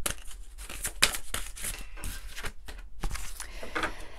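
Oracle cards being shuffled by hand before a single card is drawn: a steady run of papery riffling and flicking, with sharper card snaps now and then, close and fairly quiet, with no talk.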